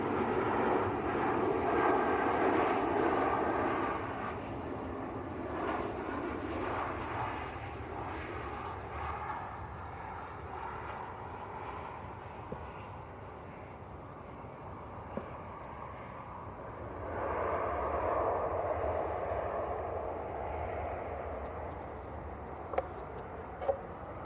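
EasyJet Airbus A320 jet at Manchester Airport, a broad continuous engine roar that holds steady throughout and swells again late on, heard at a distance outdoors.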